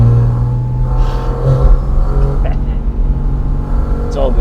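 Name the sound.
Porsche Cayman GT4 RS engine revving on mountain pass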